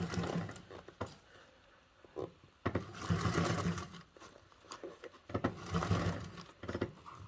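A sewing machine top stitching fabric right at the edge, running in several close, whirring bursts of varying length separated by short pauses and faint handling noises.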